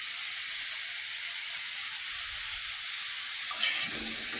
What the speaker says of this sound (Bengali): এখন আমি আমগুলো নেড়ে চেড়ে ভাজির মতো